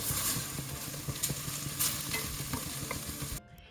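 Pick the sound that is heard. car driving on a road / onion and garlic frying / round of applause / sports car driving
onion and garlic frying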